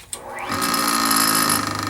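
A Wissota 911 skate sharpener grinds a damaged hockey skate blade: a click, then a rising motor whine that settles into a steady, fairly close grinding tone.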